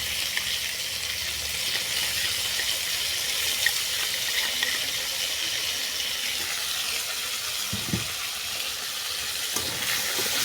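Bathua (betua) greens stalks sauté with chilli powder and a paste of white mustard and radhuni in a pan for chorchori, giving a steady close sizzle broken by occasional scraping stirs.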